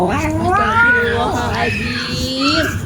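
A cat yowls and caterwauls loudly up close, long wavering drawn-out cries rising and falling in pitch, with a person speaking over part of it.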